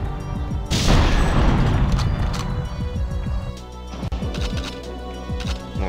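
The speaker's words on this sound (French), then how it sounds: "Casser les caisses dans ce niveau." Wooden crates smashing in the GoldenEye 64 Caverns level, a loud burst of breaking and crashing followed by a run of rapid impacts and debris clatter over game background sound.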